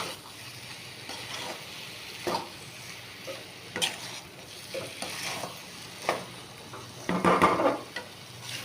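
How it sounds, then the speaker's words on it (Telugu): A spatula stirring potato fry in a pan, producing soft scraping strokes at irregular intervals over a low steady sizzle, fairly quiet and close, with no talking. "మనం మొత్తం దగ్గరకని కలుపుకుంటూ ఉండాలి."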